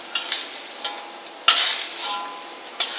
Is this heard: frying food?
yes